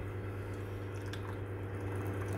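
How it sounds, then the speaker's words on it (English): Hot water pours from a Fiamma Astrolab espresso machine into a cup, a soft steady liquid stream over a constant low machine hum, close by with no talking. "Put the cup or the jar, and then you start by brewing water."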